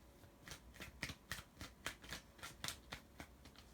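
A deck of tarot cards is shuffled in quick riffling bursts, about a dozen crisp papery flutters in an uneven rhythm, close to the microphone and quiet overall.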